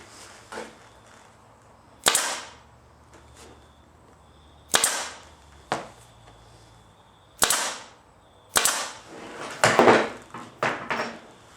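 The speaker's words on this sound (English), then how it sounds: "We just staple them off on the back." A staple gun fires into upholstery fabric on the back of a car door panel, sharp loud snapping shots arriving singly and in quick pairs with short pauses between, close and alone without talk.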